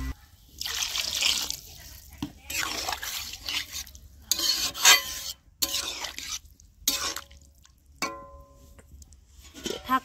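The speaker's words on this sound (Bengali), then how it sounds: "এখন সবকিছু ঠিকঠাক মতন সিদ্ধ হওয়ার জন্য দিয়ে দিব পরিমাণ মতন পানি" Water is poured into a pan of cauliflower and river chela fish curry, a splashing, trickling stream in uneven bursts with stirring and pot clatter close by.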